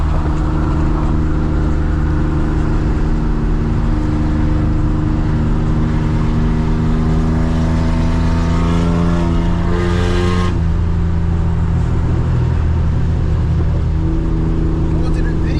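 A car engine revs up and holds a rising, droning exhaust note, then cuts back, with people chatting faintly underneath.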